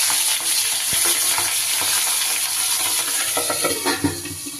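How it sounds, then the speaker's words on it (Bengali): Fish head frying in hot rice bran oil for a Bengali cabbage kata chorchori, a steady loud sizzle with scraping stirs and light clinks of a pan throughout. "মাছের মাথাটা আমি খুব সুন্দর করে লাল লাল করে ভেজে নিয়েছি"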